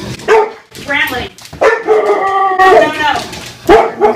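A dog barks, yips and howls in close, loud bursts, with people talking around it.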